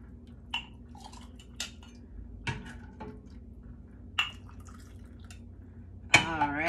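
Hot buttered rum is ladled into a mug, with soft drips and scattered light clinks of the ladle against the mug and pot, close and quiet, ending in a brief louder pour.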